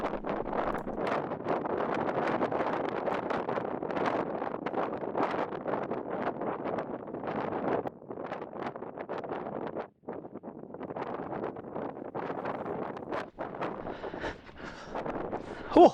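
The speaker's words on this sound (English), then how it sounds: "it was a wee bit breezy on the summit as expected" Strong wind buffets the microphone on a breezy, cold Scottish mountain summit, a steady loud roar with gusty rises and brief dips, no speech.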